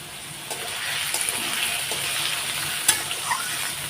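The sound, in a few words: potatoes frying in a pan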